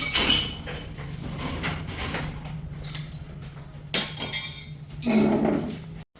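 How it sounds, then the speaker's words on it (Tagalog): Glass panes are pried out of a metal sliding door frame during house renovation, giving repeated sharp clinks and rattling glass knocks with a few louder scraping bursts over a low steady hum. "binabaklas na din yung mga salamin"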